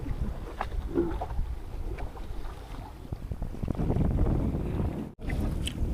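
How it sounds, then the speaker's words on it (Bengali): Strong wind and choppy waves buffet a small boat out on open water, making a steady, loud broadband rush with gusty swells and a brief dropout near the end; no talking is heard. "প্রচন্ড ঢেউ বন্ধুরা, হাওয়া চলছে, নিশ্চয়ই শুনতে পাচ্ছেন শব্দ।"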